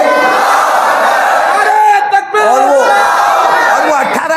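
A large gathering at a religious sermon calls out together in response to a takbir chant, a loud, sustained wall of massed voices with a brief dip midway before the shouting resumes.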